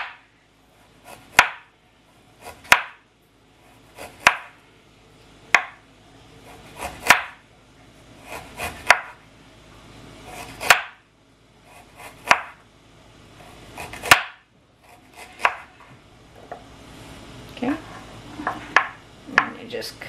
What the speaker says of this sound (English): then you just peel, cut it into really thin slices